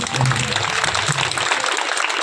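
Audience applause at a public religious event, a thick steady patter of many hands clapping close by that holds evenly for over two seconds.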